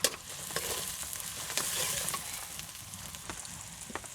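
Onion and garlic frying in oil over a clay stove, with soft sizzling under repeated scraping and clinking as a utensil stirs the pan.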